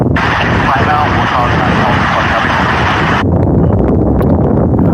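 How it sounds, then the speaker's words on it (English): A departing airplane at Tulsa airport roars steadily and loudly with a broad engine rumble and high whine, the higher tones dropping away partway through as the engine noise continues; wind buffets the microphone and a voice speaks over it. "Waiting for a couple of aircraft departure."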